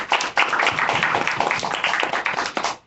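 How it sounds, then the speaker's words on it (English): An audience applauds a panel discussion facilitator, steady dense clapping from a crowd that runs close and fairly loud for a few seconds before cutting off. "Applause also for our facilitator, Angela."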